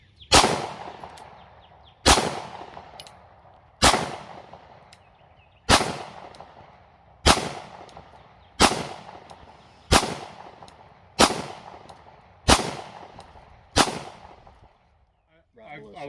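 Pistol fitted with a red dot sight fired at an outdoor range, ten single sharp shots spaced about two seconds apart, each loud crack trailing into a short echo, a faint voice near the end.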